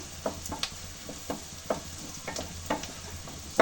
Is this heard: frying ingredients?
yes